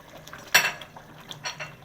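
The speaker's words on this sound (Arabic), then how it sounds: "ونقلب" A spoon clinks against a pot while stirring a spiced tomato sauce for okra, one sharp metallic knock followed by softer scraping and stirring sounds.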